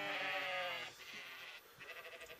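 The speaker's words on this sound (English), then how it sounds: "I turned into a raging sheep." A cartoon sheep in an animated show lets out a drawn-out, wavering bleat, loud and close, followed by a shorter shaky bleat, with no talking.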